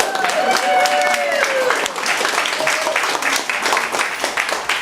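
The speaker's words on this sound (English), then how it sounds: "So, one more time, round of applause." Audience applause at a glee club spring concert, a dense wash of clapping that runs steadily from start to finish, with voices and singing-like tones mixed into the crowd noise early on.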